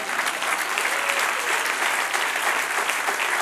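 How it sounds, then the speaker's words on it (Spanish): A church congregation applauds steadily, a dense, even clapping that fills the whole stretch without pause. "Dale otro aplauso al Señor."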